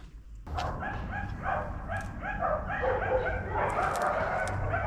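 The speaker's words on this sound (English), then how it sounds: "Someone's upset the dogs." Several dogs bark and yip continuously, fairly close, with overlapping barks and a whiny edge throughout.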